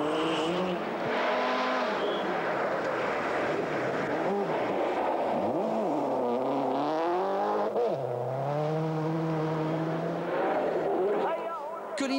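1997 Swedish Rally car driven hard by Ericsson: a loud engine wails up and down through gear changes and revs, with a commentator talking over it continuously throughout.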